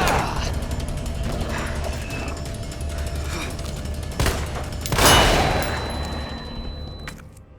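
Gunfire in the video game Resident Evil 2, mechanical clicks and a sharp burst of shots over a dense game soundscape, fairly loud and continuous.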